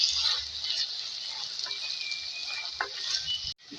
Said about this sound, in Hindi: इसको पहले फ्राई करेंगे।